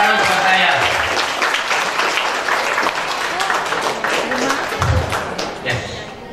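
An audience applauds at a teaching workshop after a card trick, a dense crackle of many hands clapping throughout, with voices and a few low thumps breaking through.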